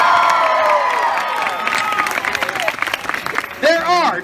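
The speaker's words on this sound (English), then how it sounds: "And circus applause!" Audience applause and cheering at a Renaissance fair stunt show, with shouting voices and whoops over scattered clapping, loud and lively, ending with a voice rising above the crowd.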